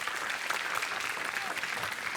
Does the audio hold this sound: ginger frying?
no